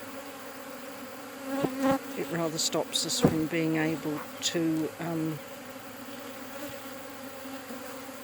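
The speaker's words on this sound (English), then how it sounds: "We're actually going to move these bees" Honeybees hum steadily around a colony box in a garden, a continuous close buzz that runs alongside someone talking intermittently.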